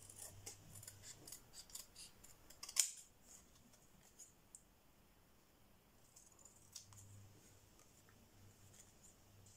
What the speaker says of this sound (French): je vais le faire au ciseau en essayant de couper droit